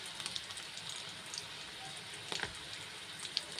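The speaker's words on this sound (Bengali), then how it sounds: "ডিমগুলো হলুদ আর নুন মাখিয়ে ছেড়ে দিয়েছি কড়াইতে" Eggs coated in turmeric and salt fry in hot oil in a kadai, giving a steady, fairly quiet sizzle with scattered small pops and crackles and no voices.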